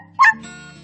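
A dog gives a single short, high yelp, followed by quiet whimpering tones underneath.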